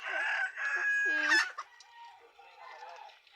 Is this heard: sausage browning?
no